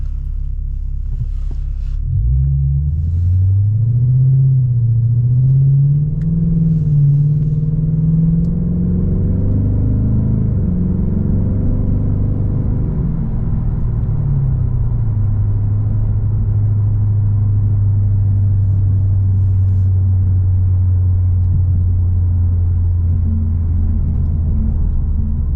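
Lexus IS 500 fitted with an ARK GRiP catback exhaust drives on an open road, its V8 rumbling and rising and falling through gears before settling into a steady, loud cruising drone.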